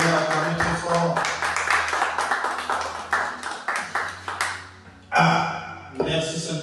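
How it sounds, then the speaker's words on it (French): A church congregation applauding loudly during a worship service, bursts of clapping swelling and fading in waves, with a brief pause before the applause picks up again. "Acclamons pour le Seigneur, acclamons très fort."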